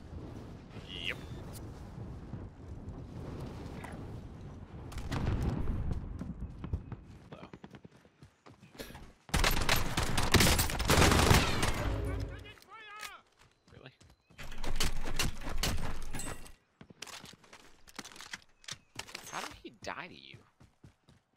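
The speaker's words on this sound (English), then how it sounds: "Oh, I'm being shot at." Gunfire in the video game Call of Duty Warzone comes in several loud bursts separated by quieter stretches, with a player talking in between.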